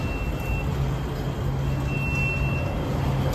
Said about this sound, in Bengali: ট্রেন চলে এলো, এই ট্রেনটায় আমরা এখন চাপবো।